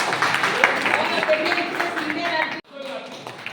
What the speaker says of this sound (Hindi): भाइयों सर के लिए जोर से ताली बजाएं।